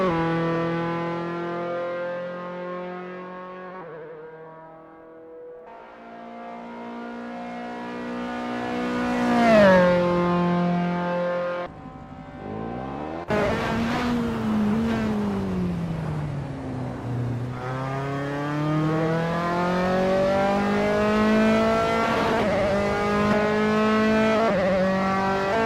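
Dallara F312 open-wheel race car lapping Las Vegas in Assetto Corsa, its engine screaming up through the gears, dropping sharply on downshifts and climbing again, sustained and close with no voices.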